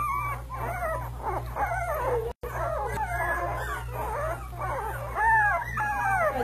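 Puppies squeak and whimper close by in a run of thin, high, wavering cries, overlapping and rising in bursts, over a low steady hum with one brief dropout.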